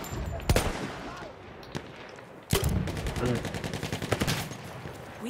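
Gunfire in the video game Battlefield 1: sharp single shots ring out, then a rapid run of automatic fire, with a voice talking over it.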